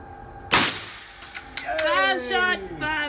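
A rimfire rifle fires a single sharp shot at a youth shooting range, followed by clattering as bowling pins are knocked down, with a voice talking over the rattle and ring afterward.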